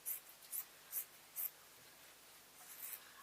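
Scissors snip through fabric while a blouse neckline is cut: four quiet, crisp snips come in an even rhythm, followed by a soft rustle of cloth, close by and with no voices.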